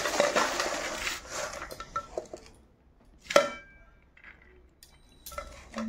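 Dishes and a plate clink while a plate of hot rice is readied in a home kitchen, a cluster of clatter at the start, then a sharp knock and scattered taps, close and fairly quiet.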